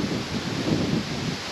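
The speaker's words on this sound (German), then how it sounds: "Und windig." Headwind buffeting the microphone while riding an e-bike on a lakeside-to-alpine cycle path, a steady broadband roar and rustle filling the short stretch with no talk.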